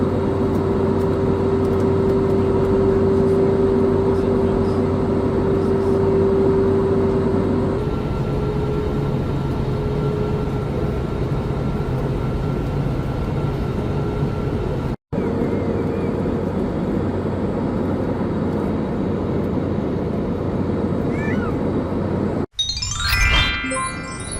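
Steady airliner cabin noise on a flight into Seville, a constant loud broadband roar with a low hum, broken by two brief cuts and a short rustle near the end.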